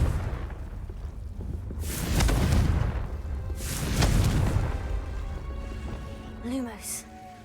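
Confringo fire spell explosions in the video game Hogwarts Legacy: two heavy, rumbling blasts a couple of seconds apart, each decaying slowly, followed by brief chirping effects.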